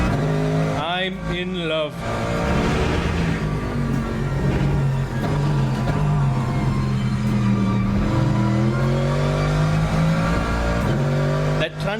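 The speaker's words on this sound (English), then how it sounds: "That transmission whine it hits just right. You've got enough of that the bellow from the engine." Supercar engine, an Aston Martin Valkyrie or Mercedes-AMG, bellowing loud and close with a steady sustained drone and an overlying transmission whine, held continuously throughout, with brief speech near the start.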